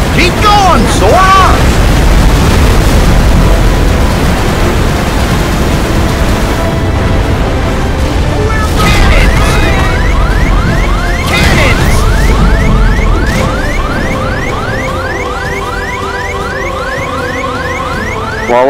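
Loud booming cannon blasts and crashes from a Kingdom Hearts 3 ship battle, with whooshes and rumbling, followed by quieter rhythmic mechanical effects.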